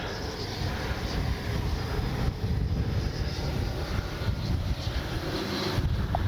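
An FMS Avanti S 90mm electric ducted-fan RC jet on its maiden flight, a continuous whooshing turbine roar that swells and fades slightly as it passes, with steady wind noise on the microphone.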